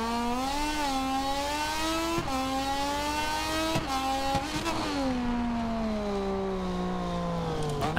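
A Moto2 racing motorcycle in the MotoGP 24 video game revs hard around a circuit, the engine note rising and falling through quick gear shifts, loud and continuous with no talking over it.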